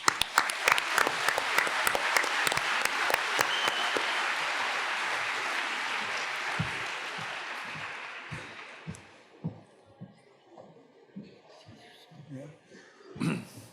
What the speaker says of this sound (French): j'aimerais que vous fassiez un tonnerre d'applaudissements pour François Langlais